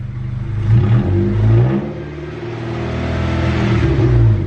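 A Honda CR-V with its automatic transmission engaged in reverse reaches about 20 miles an hour, the engine revving and whirring loudly, rising in surges and settling between them.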